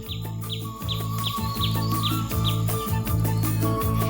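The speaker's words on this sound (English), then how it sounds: "Exotic birds inhabit this 30-acre garden, where a vast variety of native plants, rare flowers, and fruit trees flourish." Exotic birds calling in a 30-acre tropical garden in Hawaii, repeated bright chirps and whistles over a steady musical background.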